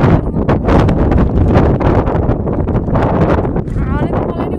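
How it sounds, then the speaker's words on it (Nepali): Strong wind blowing across an open hillside, gusty buffeting and roaring against the microphone, loud and close throughout, with a person talking over it. "हावाले मलाई नै उडाउँछ जस्तो छ"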